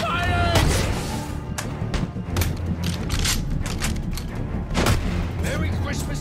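Gunfire and booming impacts in the video game Batman Arkham Origins during brutal combat, dense and continuous over game noise, with voices shouting.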